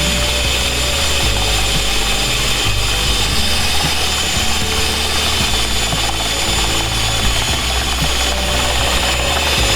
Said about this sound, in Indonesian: Kemudian saya tambahkan 1 butir telur ya. Lalu ini saya mixer teman-teman.